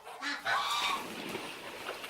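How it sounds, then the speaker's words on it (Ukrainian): A goose honks loudly and harshly nearby, a couple of brassy calls running together over a second or two. "Гуси з криком усі вростіч. Гусак ще раз ге."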